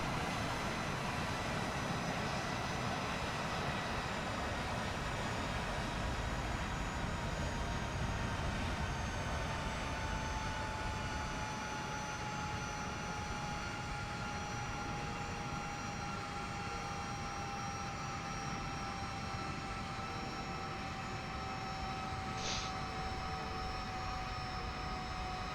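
A-10A jet in a flight video game approaching a Navy aircraft carrier: a steady, continuous engine drone with a sustained whine, loud and unbroken throughout, with no talk.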